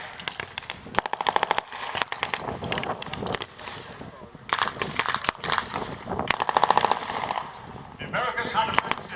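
Gunfire from a battle reenactment at Tankfest at the Bovington Tank Museum in England, with rapid machine-gun bursts crackling in repeated clusters at mid distance, mixed with scattered single shots while someone talks over it.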